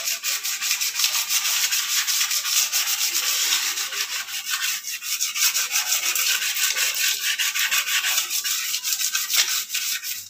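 Sandpaper scrubs rust off a toilet in a continuous, close, rough rasping, with quick back-and-forth strokes that keep an even loudness. No voices are heard.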